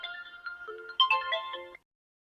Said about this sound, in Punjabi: ਆ ਵੀ ਮੇਰੇ ਵਾਲਾ ਫੋਨ ਕਰੀ ਜਾਂਦਾ